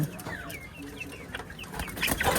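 Native hens on an enclosed chicken farm with a single rooster among them cluck softly and repeatedly at close range, with scattered chirps and rustling in a quiet pen.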